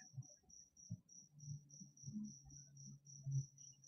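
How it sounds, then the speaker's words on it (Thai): Crickets chirp in a fast, steady pulsing rhythm, faint and continuous against a quiet low rumble, heard on a winding road toward Betong in Yala, Thailand. "เสียงจิ้งหรีดเนี่ย ร้องตามลุงตลอด"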